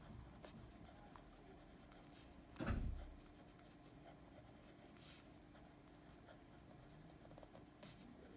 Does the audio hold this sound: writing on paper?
yes